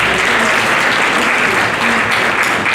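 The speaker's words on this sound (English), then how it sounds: "So let's give them a big round of applause" A conference audience applauds loudly and steadily, a dense wash of many hands clapping at once that holds without a break from start to finish.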